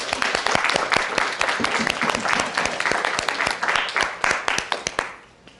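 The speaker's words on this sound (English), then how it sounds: "A round of applause for Kira Machado, folks" Audience applause at a college emergency preparedness workshop, a dense burst of many hands clapping that holds steady, then thins to a few scattered claps and fades out at the end.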